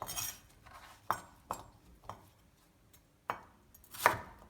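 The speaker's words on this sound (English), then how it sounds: "You can cut the cubes however you want." A knife chops Korean radish into cubes on a cutting board for kkakdugi kimchi, giving several crisp, close thuds at uneven intervals with quiet pauses between, the last chop the loudest.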